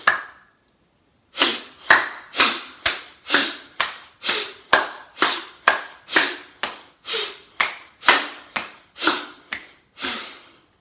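Sharp, loud hand claps ring out in a steady series of about eighteen, spaced roughly half a second apart, each with a quick breathy rush, marking the rhythm of bhastrika pranayama breathing after a short pause.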